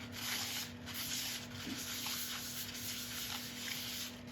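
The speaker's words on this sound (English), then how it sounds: "Just a light wipe, just to pick up excess" A cloth gives a light wipe across a finished chestnut burl wood surface to lift excess finish, a soft, quiet, continuous rubbing swish close by with a faint steady hum behind it.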